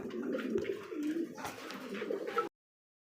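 A pair of German Beauty Homer pigeons coo with steady, soft, throaty calls close by, continuous through the clip with no talking.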